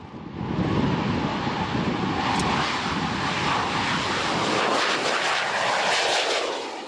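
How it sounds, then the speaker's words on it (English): Taiwan's indigenous Brave Eagle advanced jet trainer takes off with a loud, steady engine roar and rumble that holds for several seconds before easing slightly. "With a great rumble, Brave Eagle takes off and shoots into the clouds."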